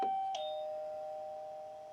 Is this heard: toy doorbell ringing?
yes